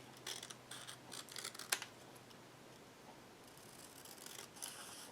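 Scissors cut long paper triangles for a mixed media collage, giving quiet, close snips and paper rustles in short bursts, then softer scraping toward the end.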